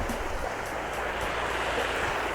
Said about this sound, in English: I'm gonna look at this creek. This is beautiful.